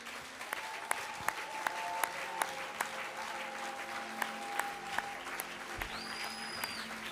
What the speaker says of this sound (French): Est-ce possible que nous puissions acclamer le Seigneur?